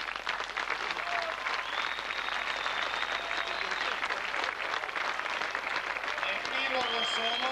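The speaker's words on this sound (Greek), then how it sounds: "Ένα γερό λοιπόν χειροκρότημα σε όλους τους συντελεστές." An audience applauds a theatre group after a performance, with dense, steady clapping that holds at an even level throughout and some faint voices mixed in beneath.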